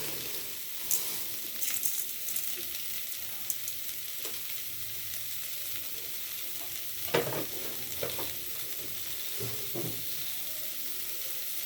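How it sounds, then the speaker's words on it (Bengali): Potatoes, vegetables and spices with asafoetida and a little sugar are stir-fried in a pan, giving a steady close sizzle with occasional scraping stirs and clinks, without talk. "এটা আমি বেশিক্ষণ কিন্তু কষবো না তাহলে সমস্ত জিনিসগুলো পুড়ে যাবে"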